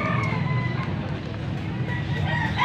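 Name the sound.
chickens crowing and clucking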